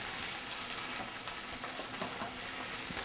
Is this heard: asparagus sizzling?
yes